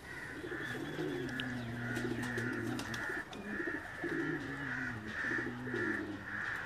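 Lakha pigeons coo in repeated soft, throaty phrases, several birds overlapping steadily throughout at close range, with a faint high chirp in the background.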